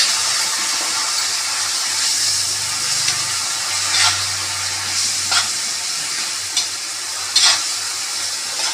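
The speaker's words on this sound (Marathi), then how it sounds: "हा मसाला चांगला भाजून द्यायचा." Masala with hyacinth beans fries in a pan, a steady close sizzle broken by several scraping stirs of a spoon against the pan, with no talking.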